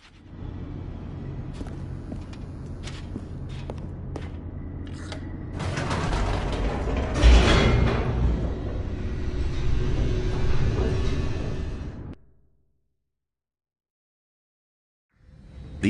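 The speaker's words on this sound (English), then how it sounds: "The elevator raced downward," Elevator mechanism descending in the video game The Stanley Parable: a steady mechanical rumble with creaks and clanks that swells louder midway, then cuts abruptly to silence before a faint return at the end.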